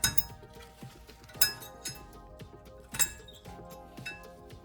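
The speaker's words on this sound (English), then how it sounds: "you can simply remove the caliper like so and remove the pads along with the hardware" Metal hardware and brake pads clink and rattle as the caliper comes off a QX60, with several sharp close metallic taps and small jingles spread unevenly over a few seconds.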